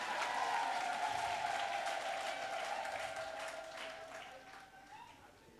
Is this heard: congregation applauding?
yes